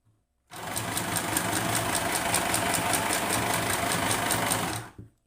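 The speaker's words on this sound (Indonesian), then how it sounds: "mesin jahit mini ini akan tetap dapat digunakan menggunakan power off dan power on" A small sewing machine whirs steadily for about four seconds with a fast, even mechanical buzz, starting and stopping abruptly, close to the microphone.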